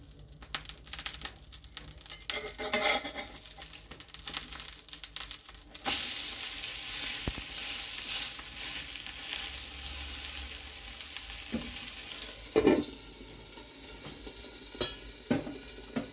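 An okonomiyaki pancake with pork fries in a pan with a fairly quiet, continuous sizzle. A louder hissing burst comes partway through, and brief crackles and scraping from cooking utensils follow.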